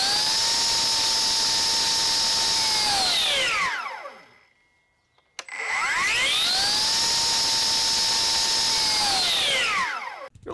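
A Milwaukee M18 FUEL 9-inch cordless cut-off saw spins up twice to a high, steady whine, running free for a few seconds each time before winding down, with a short quiet gap between the two runs.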